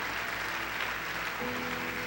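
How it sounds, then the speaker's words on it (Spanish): A church congregation claps steadily and evenly, the sound filling a large room, heard at a moderate distance with no voices over it. "Un aplauso para Cristo."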